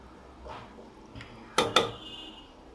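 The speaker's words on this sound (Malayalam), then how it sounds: "ഒന്ന് മിക്സ് ചെയ്യുക." Metal spoon mixing dried fish and plantain curry in a pot, with a soft scrape followed by a couple of sharp clinks against the pot rim and one more knock at the end.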